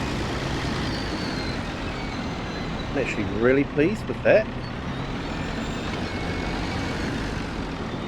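A truck engine in a farming simulator game gives a steady, moderately loud droning rumble throughout, with someone speaking briefly over it midway.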